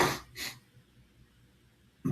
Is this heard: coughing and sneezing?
yes